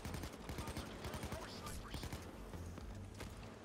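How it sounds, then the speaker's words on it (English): Rapid automatic gunfire from an AK rifle during a Payday heist shootout, dense overlapping bursts with some footsteps in a busy, loud mix. "I'm being shot."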